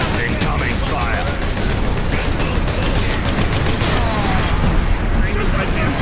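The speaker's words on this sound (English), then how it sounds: "Artillery shell moving into position. Incoming fire!" Incoming artillery fire in the Space Marine video game, a dense continuous barrage of booms and gunfire rumbling loudly throughout, with a voice talking over the din.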